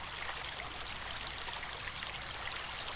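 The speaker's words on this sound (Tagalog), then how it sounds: "Nandito na ako sa tabi ng river." The clear, cold Agos River in Daraitan flows as a steady, even rushing murmur, close and constant with no voices over it.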